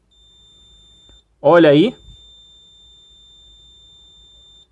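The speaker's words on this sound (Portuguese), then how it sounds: "Viu? O bip." A single sharp electronic beep, about half a second long, sounds close by from the pump triac circuit on an Electrolux appliance power board. A quiet hum runs before and after it, and a voice speaks briefly.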